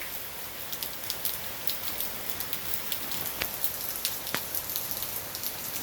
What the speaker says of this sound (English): during heavy rainfall